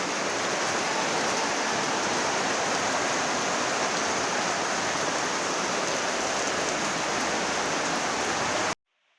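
Heavy rain pours down in a dense, loud, unbroken roar of water for several seconds, then cuts off abruptly near the end.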